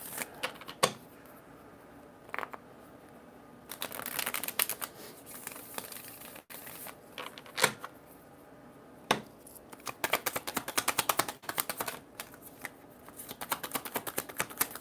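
Tarot cards being shuffled by hand, with bursts of riffling and flicking in irregular clusters, close and fairly quiet, and no talking.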